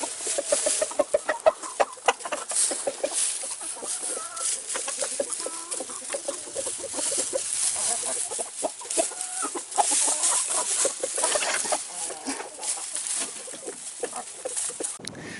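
Chickens in a coop cluck and chatter steadily, several birds close by with overlapping short calls and a restless background of scratching and movement.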